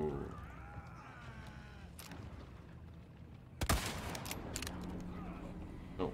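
Gunfire in Resident Evil 4 Remake on hardcore difficulty, a sharp loud burst of shots mid-clip followed by a few scattered lighter impacts, over a low game ambience and faint sounds in the background.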